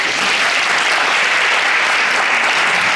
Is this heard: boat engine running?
no